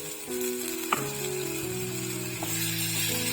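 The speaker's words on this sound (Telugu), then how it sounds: "ఇవన్నీ ఆయిల్లోనే చక్కగా ఫ్రై అయితే అవ్వాలండి" Chopped onions and tomatoes frying in hot oil in a pan for a paneer butter masala, a steady soft sizzle with a couple of small clinks of a utensil, fairly quiet and close.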